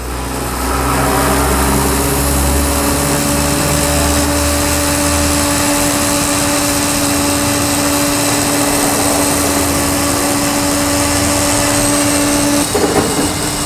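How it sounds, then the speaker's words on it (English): Compressed air forces sealant powder through a hose into a tire, a loud steady rushing hiss with sustained tones running continuously for about thirteen seconds before a brief clatter at the end. "powder is now being discharged into the tire"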